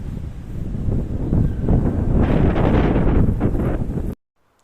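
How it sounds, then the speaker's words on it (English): Wind buffets the microphone on a cycling track just off a ferry in the Netherlands, a loud continuous rumbling roar that swells midway and then cuts off abruptly. "You can hear wind in the background"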